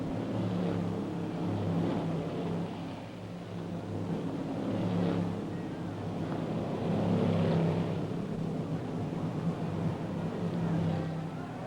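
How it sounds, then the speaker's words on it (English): Thirty-one 1957 Indianapolis 500 race cars pull away at the green flag, a dense sustained engine roar with rising and overlapping revs that hold steady throughout, heard from a distance on an old archival recording. "The green flag is out, and it's a clean start for the 31 cars."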